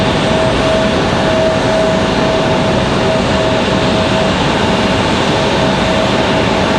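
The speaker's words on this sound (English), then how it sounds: "we have the American Eagle off and going" An American Eagle airliner takes off at Raleigh-Durham airport, its continuous loud engine roar steady and broadband, with a faint thin whine running through and no voices.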